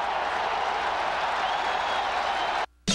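Dense, steady roar of a huge stadium crowd at Michigan Stadium during a college football game, loud and continuous before cutting off abruptly.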